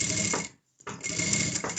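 A sewing machine stitches a fabric face mask, with a steady close whirring that breaks off briefly mid-run and then resumes.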